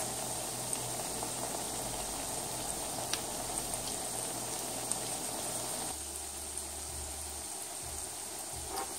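Homemade salmon patties cook in a pan with a steady, soft bubbling sizzle, fairly quiet and continuous, close by with no talking.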